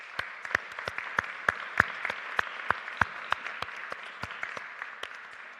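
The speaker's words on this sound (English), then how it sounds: "So please have a round of applause for the Porter Foundation." Audience at a Brevard College hall of fame induction ceremony applauds the Porter Foundation, a steady wash of clapping with sharp individual claps standing out, fairly close, no talking over it.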